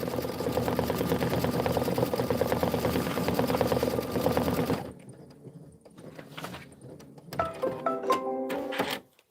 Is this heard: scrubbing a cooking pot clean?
no